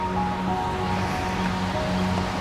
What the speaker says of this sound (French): le bruit des vagues derrière moi.